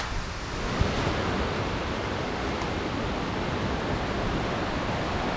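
A rocky creek in Lamington National Park, near Larapinta Falls, rushes steadily over stones, a dense, even roar of flowing water heard close up with no voices.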